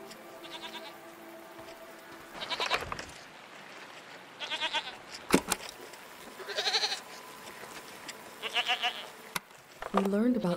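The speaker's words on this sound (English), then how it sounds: "What are these strange goat-like creatures? Are they simply goats?" Goats bleat in the video game SEASON: A Letter to the Future, several separate wavering calls spaced a couple of seconds apart, with a voice speaking quietly underneath.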